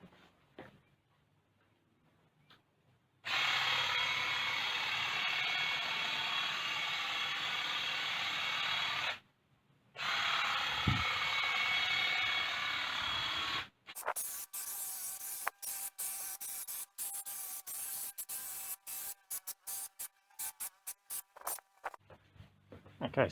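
An Ozito 18V cordless hedge trimmer cuts a hedge in long buzzing bursts of steady reciprocating blade whine. Short pauses break them up, then a choppier run of rapid stop-start cuts follows.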